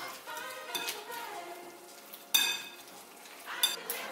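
A spoon stirs cake batter containing olives in a bowl, making soft scraping and swishing sounds with a couple of sharper clinks against the bowl.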